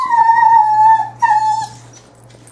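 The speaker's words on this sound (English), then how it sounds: "These dogs who are happy to see me when I got home are nature." Dogs greeting someone arriving home at a cabin howl and whimper loudly up close, two long drawn-out wavering cries separated by a short gap, then trailing off into quiet.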